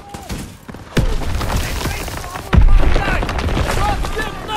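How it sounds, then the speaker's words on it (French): Loud gunfire in the game Call of Duty: WWII cracks and booms in bursts, with a heavy thud midway and voices talking amid the shooting. "Les coups de feu. Nos hommes sont pas loin."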